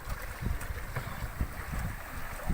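Sailboat running under steady trade wind on an Atlantic crossing, with continuous wind and water rush, low thumps of hull and waves, and fairly loud, constant wind noise across the microphone.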